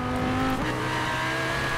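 A car engine revs in the racing game Forza Horizon 5, a steady, loud drone that drops in pitch partway through and then holds, with no talk over it.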